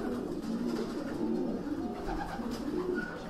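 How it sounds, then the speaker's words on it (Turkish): A feather-footed racing pigeon coos in low, throaty rolling phrases. The calls are close and continuous, with soft ambient noise around them and no talking. "Paçalı bir güvercin geliyor arkadaşlar."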